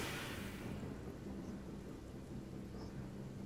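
Rain and thunder conjured by a rain spell in Divinity: Original Sin roll as a dense, low rumble with a hissing wash of rain that fades early, steady and fairly quiet, without speech.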